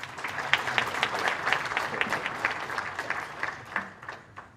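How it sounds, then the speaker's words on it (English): An audience at an African Union ministerial meeting applauds with moderately loud, dense clapping. A few sharper individual claps stand out before the applause gradually thins toward the end. "Please give him another round of applause."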